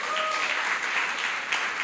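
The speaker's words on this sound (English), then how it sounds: "give all the presenters a round of applause" An audience at a family finance presentation applauds the presenters with a steady, moderately loud round of clapping. A brief tonal whine appears near the start, and there is no clear speech.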